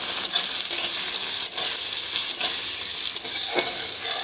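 Steady crackling sizzle of onions frying in a pan, with occasional scraping stirs of a utensil; close and continuous, no voices.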